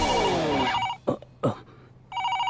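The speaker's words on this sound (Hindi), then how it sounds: "ये लो घंटी बजी" A telephone bell rings loudly, stops for two short bursts of other noise, then starts ringing again near the end.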